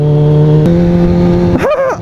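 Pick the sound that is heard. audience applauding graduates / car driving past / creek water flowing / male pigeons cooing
car driving past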